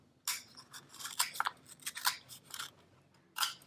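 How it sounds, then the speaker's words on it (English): Scissors snip through paper in a quick series of crisp cuts while making a paper mask, close up, with a short pause before one final snip. "snip it, and now we can stick our scissors through"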